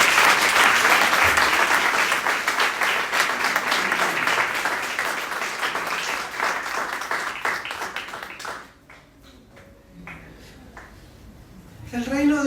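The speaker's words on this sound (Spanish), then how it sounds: "Si va a darle un aplauso al Señor" A church congregation claps loudly for the Lord during a Spanish-language sermon, the applause fading after about eight seconds to a quieter room with scattered sounds before a brief burst returns at the end.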